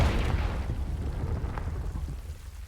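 A Confringo spell explodes in Hogwarts Legacy, a short rumbling blast that fades into a crackling, rain-like tail, heard alone.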